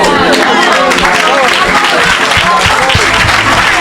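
A church congregation bursts into loud, sustained applause and cheering at a healing service, dense clapping filling the space throughout, with voices mixed in among the crowd.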